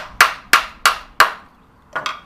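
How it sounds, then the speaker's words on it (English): Sharp hammer taps drive a metal insert nut into a pilot hole drilled in wood for a bed: four evenly spaced strikes, then a fifth, softer double tap, close and clear. "and just give it a little tap."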